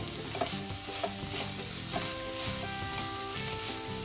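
Moth bean sprouts with turmeric are stirred and sautéed in a pan, giving a continuous close sizzle broken by repeated scraping strokes of a spoon, with no one talking.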